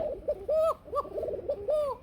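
A female Shalik Kuka pigeon coos close by in three or four short, throaty phrases, each rising and falling, separated by brief pauses.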